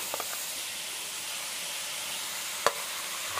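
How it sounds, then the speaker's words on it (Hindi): Bell pepper (capsicum) cooking in a pan, a steady close hiss of sizzling with a faint clink at the start and a sharp utensil tap near the end. "अब डालने लगी हूँ शिमला मिर्च, शिमला मिर्च को थोड़ा सा पकाऊंगी"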